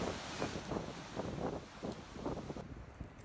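Wind gusts across the microphone on a beach at Sanibel Island after a hurricane, with steady ocean surf rushing underneath; a loud, continuous roar with no speech.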